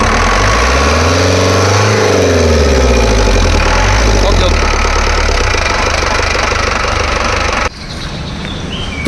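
A second-hand 2018 Tata Xenon pickup diesel engine revs briefly, then settles into a loud, close, clattering idle with a steady knocking rhythm, and it drops lower just before the end, with voices faintly present.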